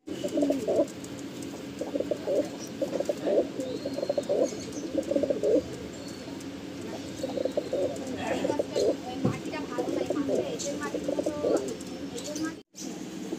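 Soft, repeated pigeon coos and bird calls ripple through a busy outdoor background as a pair of dobaj pigeons is released, with brief murmurs of voices mixed in.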